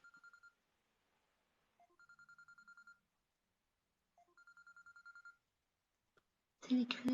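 Telephone ringing in three separate bursts of rapid electronic trills, clear against silence, then a brief snatch of a voice at the end.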